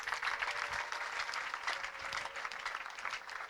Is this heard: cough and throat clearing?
no